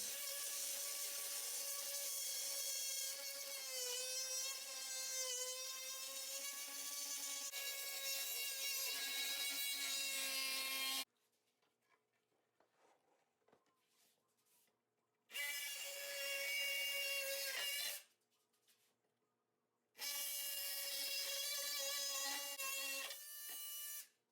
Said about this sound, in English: I'm going to go ahead and use my multi-tool to cut out these notches